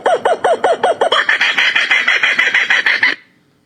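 Rooster-like bird calls play back as a rapid run of about a dozen sharp, rhythmic clucks that speed into a dense burst, then cut off abruptly into silence.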